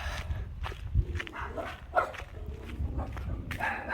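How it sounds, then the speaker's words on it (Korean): Dogs in a neighbourhood growl and bark from a short distance, a few scattered barks over low rumbling growls, with footsteps or shuffling nearby and no clear talking. "상대도 안 되는 강아지들이 으르렁 대고 있습니다"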